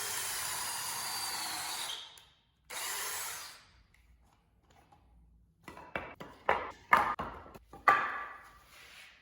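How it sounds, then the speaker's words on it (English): A drill drives pocket screws into a workbench face frame with a series of short, sharp whirring bursts in the second half, after longer steadier runs earlier, close up with no talking. "I'm going to use pocket screws to attach these from the inside."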